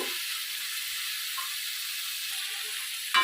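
Masala spices sizzle steadily as they are stir-fried in oil in a pan for a pointed gourd and prawn curry, with a continuous close hiss and no voices.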